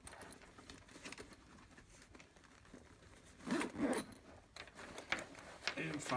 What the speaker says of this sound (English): We zip this up.